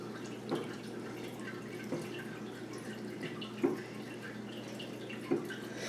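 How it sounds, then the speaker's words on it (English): Beaten egg mixture is poured evenly over peppers and sausage in a breakfast casserole, with soft wet dripping and splashing and a few sharper drips scattered through a low continuous liquid hiss, close and fairly quiet. "We're just going to pour it evenly over the peppers and the sausage."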